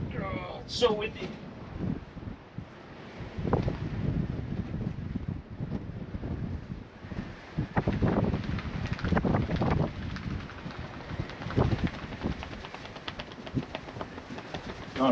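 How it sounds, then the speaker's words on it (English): Strong gusting wind blasting across a mountain top and buffeting the microphone in heavy rumbling waves that swell and ease over and over, with voices talking underneath. "Oh, it's so windy."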